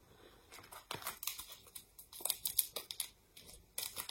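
Close, crisp crinkling and rustling of a paper sachet from a diamond painting kit being handled in irregular bursts, with no speech.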